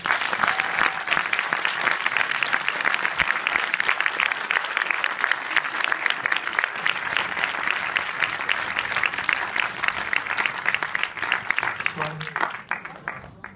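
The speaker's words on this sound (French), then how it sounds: "Je vous demande d'applaudir Monsieur François Ozon, s'il vous plaît" A cinema audience at a film premiere screening in Aulnay-sous-Bois applauds director François Ozon, lively clapping that runs steadily for most of the stretch before tapering off, with a voice faintly emerging near the end.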